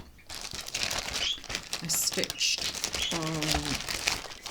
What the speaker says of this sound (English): sorry, excuse the rustling